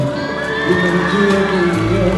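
A concert audience in Catania cheers, applauds and shouts with a busy, rising roar, voices whooping together at a lively distance.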